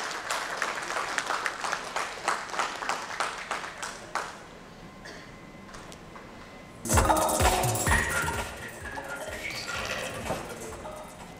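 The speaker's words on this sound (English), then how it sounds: "A round of applause as he joins us on stage." Audience applause at a banking technology leaders' keynote event, a dense crowd clapping for about four seconds before fading into quieter room sound, followed by a louder burst of activity.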